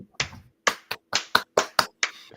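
A series of about eight sharp, separate hand claps in an uneven rhythm, close and dry with silence between each, no talking.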